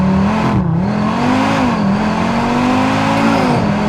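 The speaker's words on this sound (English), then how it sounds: "So foot all the way down, floor it, and off." An Audi RS3 hatchback launches at full throttle, its engine roaring loud and close as the revs climb steadily under hard acceleration, with no talk over it.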